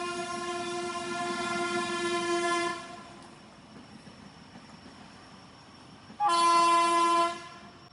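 A train sounds its horn in long blasts at a railway level crossing near the road, the rumble of passing wagons continuing between two loud horn calls, fairly close.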